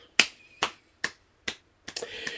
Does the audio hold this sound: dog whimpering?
no